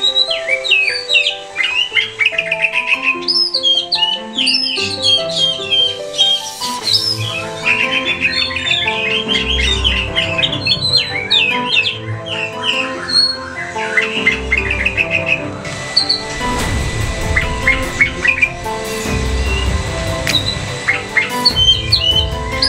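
A white-rumped shama (murai batu) sings a long, varied stream of bright chirps, whistles and trills, loud and close, with low thumps underneath at moments.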